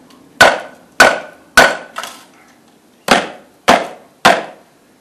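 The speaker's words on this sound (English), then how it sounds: "I hear that wood trying to break." A Siddha khukuri knife chopping and splitting wood in seven sharp, loud, close strikes. The first three come in a steady rhythm with a softer knock after them, then a pause and three more evenly spaced blows.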